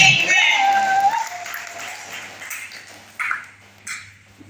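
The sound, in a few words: congregation clapping for Jesus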